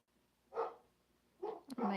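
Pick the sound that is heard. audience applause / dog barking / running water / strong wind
dog barking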